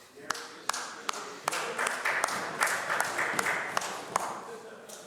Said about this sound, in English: I'm overwhelmed every time I hear that clapping